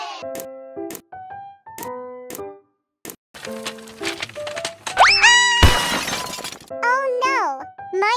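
Eggs break with a sudden sharp crack and shattering burst in the middle of playful toy-like boings and cartoonish sounds, and a childlike voice speaks around it.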